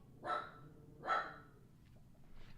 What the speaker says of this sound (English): my dog's name is Luigi